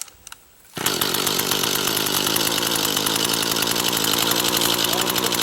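A Mantis tiller's small engine fires after a cord pull: a brief rattle, then it catches abruptly and settles into a loud, buzzing, steady run close by.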